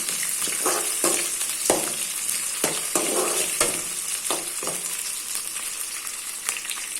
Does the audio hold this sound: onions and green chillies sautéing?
yes